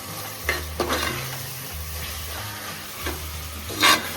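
Stirring and frying in Nandini ghee in a small room kitchen during a chicken biriyani cook, with continuous sizzle under repeated scraping strokes of a spoon against the pan, several louder clatters at irregular intervals, close and clear.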